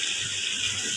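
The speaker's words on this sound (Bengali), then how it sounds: "পানি দিয়ে একটু ভালো করে কষাই নিলাম" Water poured into spice paste frying for kacchi biryani, a brief steady rushing pour that stays close and even for about a second, with no voices.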